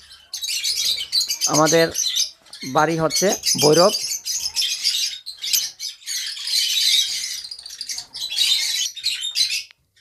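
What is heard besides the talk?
lovebirds and cockatiels chirping in cages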